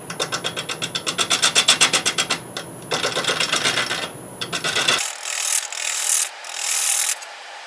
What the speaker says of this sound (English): I'm using a bowl gouge, 40 degree bevel, freshly sharpened, so hopefully cuts nice.